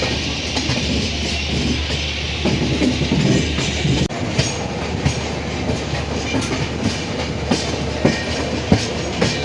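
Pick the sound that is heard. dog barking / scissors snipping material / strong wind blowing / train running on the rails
train running on the rails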